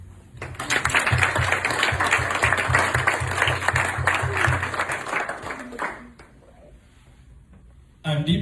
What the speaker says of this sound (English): Please join me in a round of applause for all Rotarians, family members and friends who have been part of this journey.